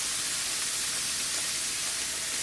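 Meat sizzling fast in a hot pan, a steady loud hiss of searing fat spread evenly across the whole moment, with no voices over it.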